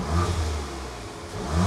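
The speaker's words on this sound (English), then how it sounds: "I'm about to get you guys some open air intake sounds and sound clips" Volkswagen MK8 Golf R with an APR open air intake, hood open, giving a short blip of revs that swells, dips, then climbs again, close and fairly quiet.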